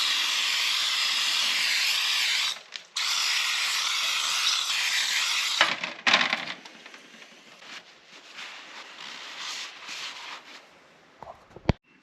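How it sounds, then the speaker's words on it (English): Carb cleaner sprayed through the electronically controlled throttle body of a BMW E83 X3 M54 intake, a loud steady aerosol hiss that pauses briefly, then sputters and fades into softer hissing with a few clicks, close up. "all we're gonna do is just spray some carb clean through it."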